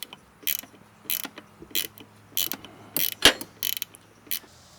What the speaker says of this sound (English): Alright, so I got a 13mm ratchet, a little wrench here.